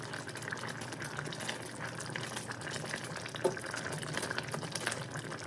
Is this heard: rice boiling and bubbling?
yes